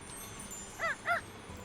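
A crow in the video game Witchy Life Story gives two short, clear caws in quick succession over a quiet background.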